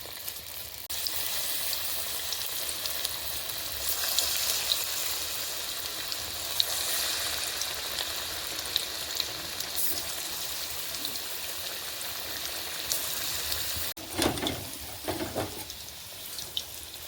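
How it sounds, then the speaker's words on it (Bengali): Food frying in a pan with a continuous close hiss and crackle, steady throughout, then a few louder clattering bumps near the end. "এরকম করে একটু ভেজে নিয়ে আবার ফের ভাজতে হবে।"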